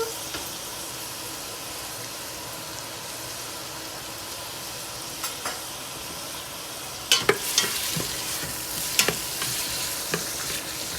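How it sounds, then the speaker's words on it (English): Garlic, thyme, celery and carrots frying together in a pot for vegetable biryani, a steady close sizzle with occasional stirring clatters and scrapes growing busier toward the end. "I add everything in the pot, and it's gonna fry now. I'm gonna fry everything up."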